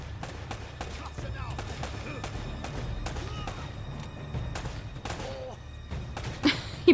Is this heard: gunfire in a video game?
yes